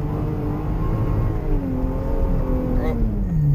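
A car engine revs hard against the limiter during a burnout, with the pitch climbing and falling as it shifts toward third gear, loud and continuous under a steady roar.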